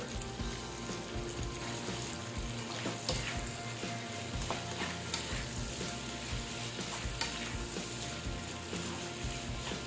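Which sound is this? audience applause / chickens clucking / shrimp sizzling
shrimp sizzling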